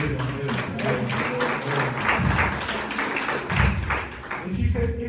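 An audience at a business masterclass claps in a dense, continuous burst, with a few voices mixed into the clapping.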